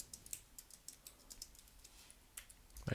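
Someone types quietly on a computer keyboard while coding, giving a run of light, quick key clicks in an uneven rhythm. A louder bump comes right at the end.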